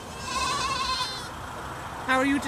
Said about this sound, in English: Hello, little goats.